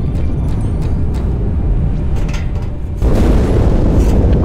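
A heavy explosion in Halo 2, a deep rumbling boom from inside the ship Athens that rolls on continuously and swells louder partway through, with no talk over it.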